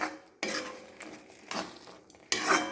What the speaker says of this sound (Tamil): இப்போ பார்த்தீங்கன்னா இது நல்லா வதங்கி வருது பாருங்க, நல்லா வதங்கிட்டு இருக்கு.